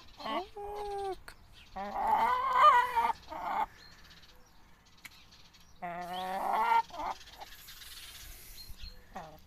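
A hen clucks in a garden in short bursts of throaty calls, with quieter gaps between them and people talking nearby.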